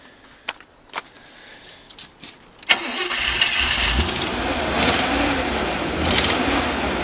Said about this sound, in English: for a car that's been sitting in the garage for over 10 years, it runs pretty nice